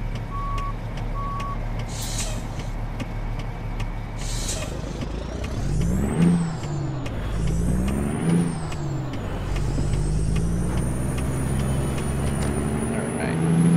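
Heavy truck in American Truck Simulator coming to a stop, with a hiss of air brakes, steady engine rumble and a repeating reversing beep as it backs up; a voice talks over it.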